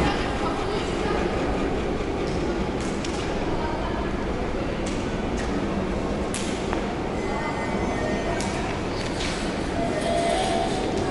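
Riding the historic Tünel underground funicular in Istanbul, built in 1875, brings a loud, steady rumble of the car moving through its tunnel, with scattered clunks and thumps along the way and no clear talk.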